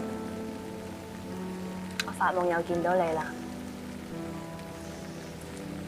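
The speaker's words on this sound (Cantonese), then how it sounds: "你睇下而家落幾大雨" Heavy rain falls steadily throughout as a continuous hiss, while someone speaks briefly partway through over the downpour.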